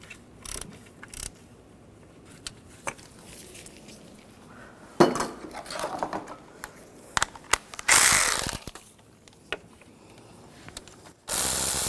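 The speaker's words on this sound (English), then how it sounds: "take the intake manifold bolts out" A socket ratchet works the intake manifold bolts loose on a 2011-2015 Chevy Cruze, with sparse, close metallic clicks and short bursts of rapid ratcheting separated by quiet pauses, plus a couple of louder clattering spells.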